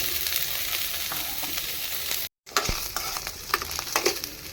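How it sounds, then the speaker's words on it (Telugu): Paneer pieces frying in a pan with butter, ghee or oil give a steady, close sizzle with scattered crackles and a brief drop out midway, no voices present. "ఈ పన్నీర్ ముక్కల్ని మనం ఫ్రై చేసుకుందాం"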